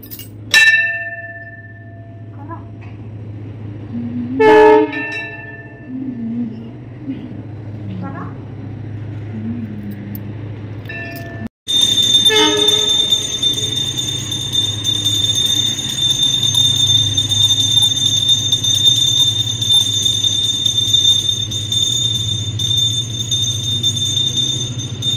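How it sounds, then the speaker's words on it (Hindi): A temple bell at a Hanuman shrine in a village rings with bright metallic strikes early on, then a sustained ringing tone takes over for the rest, while people speak nearby. "बजा घंटी बजा"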